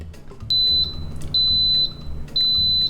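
Three loud, steady electronic beeps from an Instant Pot set to saute mode repeat at even intervals, each held for about half a second, with quiet room noise between.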